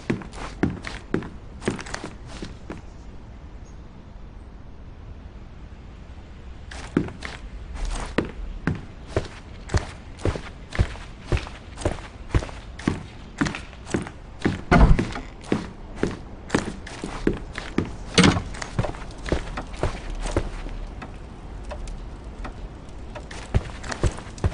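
Footsteps in the Sherlock Holmes game Stonewood Manor, a long run of steady, fairly loud treads with occasional heavier thumps like a door, heard alone with no talk.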